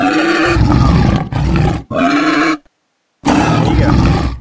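A tiger in the video game Jurassic World Evolution roars loudly and close, in three long bursts, then breaks off into silence before a fourth roar begins.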